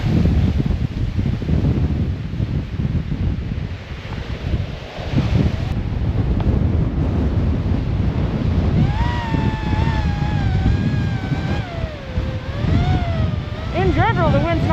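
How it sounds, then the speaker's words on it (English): Strong wind gusts on the Loch Vale mountain trail in January roar against the microphone in a continuous heavy buffeting rumble, briefly easing before surging again, with a voice-like tonal warble near the end. "but the gusts can be strong. That one got me again"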